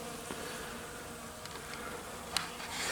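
Bees hover around a flowering tree outdoors, making a very quiet, steady buzz that lies low and continuous across the whole moment with only faint passing swells.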